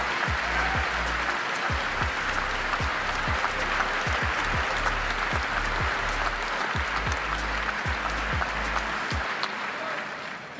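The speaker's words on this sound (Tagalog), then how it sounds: "At palakpakan naman ng mga congressman at mga senador." Congressmen and senators applaud in a legislative hall during the Philippine State of the Nation Address, a loud continuous roar of clapping holding steady throughout, with intermittent low thumps beneath it.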